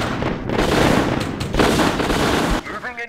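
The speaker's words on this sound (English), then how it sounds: "We are under fire, sir!" Gunfire and cannon fire in the War of the Worlds strategy game make a dense, continuous barrage of crackling shots and booms, with a voice briefly heard near the end.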